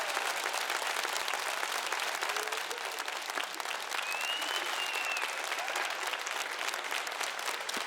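A studio audience at a March 8 TV show episode applauds to welcome two blogger sisters as guests, with continuous dense clapping at steady volume throughout and a faint voice briefly audible beneath it.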